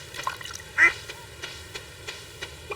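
A duck quacks once, clearly and close, in the Stardew Valley farming game, set against quiet ambient game sounds with a few soft clicks and faint background tones.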